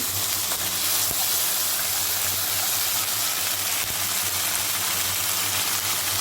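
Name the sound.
spices, ginger and green chilli paste frying in pan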